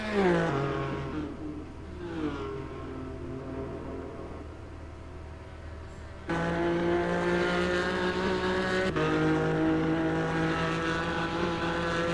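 Race car engine in a video game lap at Deep Forest, close and loud, its harmonic whine falling on downshifts and then rising, then it holds a steady high drone at full throttle with a sharp gear change.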